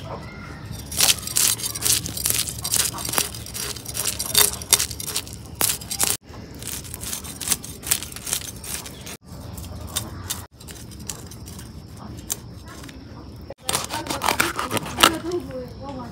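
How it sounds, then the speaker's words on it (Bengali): Fish scaled and cut by hand: dense bursts of sharp scraping clicks and knife strikes come in uneven runs, close and fairly loud, separated by brief pauses. "মাছ কুড়া হয়ে গেল, এখন আমি ধুইয়া নিই।"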